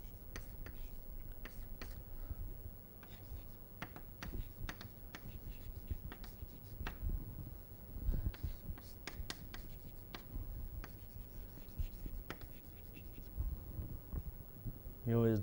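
Chalk or marker taps and scratches on a board during an aerospace engineering flight dynamics lecture, quiet irregular strokes and clicks scattered throughout, with faint room noise.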